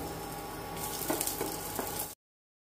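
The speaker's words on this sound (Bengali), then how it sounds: "প্রথমে আমি কিশমিশটাকে একটু ভেজে নেব।" Raisins frying in a pan for a custard semai dessert, a soft steady sizzle with a few brief crackles and pops, close and moderately quiet, no voices.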